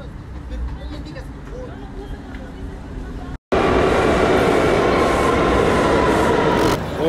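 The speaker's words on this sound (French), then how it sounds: "Ah, le métro il est juste là." New York subway train roaring loudly and steadily nearby in the station, a rushing rumble that swells suddenly after a brief cut and continues, with talk underneath.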